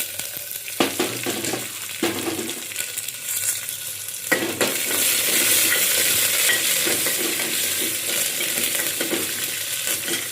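Garlic, curry leaves and dried chillies sauté in a pan for okra sambar. Scraping and stirring taps come first, then a loud, dense, continuous sizzle takes over and holds steady to the end.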